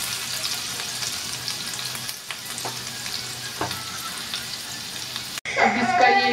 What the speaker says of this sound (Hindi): और जब इसे थोड़े देर के लिए फ्राई करेंगे, भूनेंगे इसे जब तक ये थोड़े से कलर ना चेंज हो जाए इनके